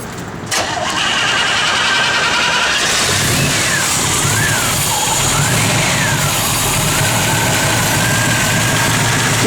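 A 1969 Chevrolet Camaro RS/SS with a stock rebuilt 454 V8 rumbling loudly up close, a deep steady engine roar with faint rising and falling whine as it moves off gently.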